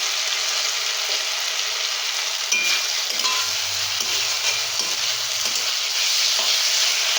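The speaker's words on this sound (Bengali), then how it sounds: "এতে দিয়ে নেব ভেজে রাখা বেগুন।" Fried eggplant pieces drop into a hot pan with cashews and get stirred, a steady broad sizzle running throughout with a few scraping knocks midway and no talking.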